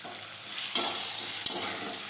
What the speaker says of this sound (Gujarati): હવે આપણે ટમેટાં નાખીશું સમારેલા. ફરી પાછું સાતળી લઈશું.